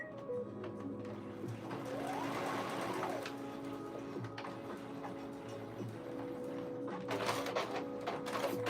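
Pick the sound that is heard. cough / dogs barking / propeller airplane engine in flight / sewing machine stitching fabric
sewing machine stitching fabric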